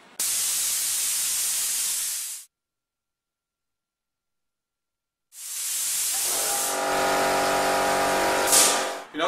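Compressed air hisses loudly and steadily from an air compressor, stops abruptly into silence, then bursts out again with a broad rushing blast that carries a faint tonal hum and a brief rise near the end.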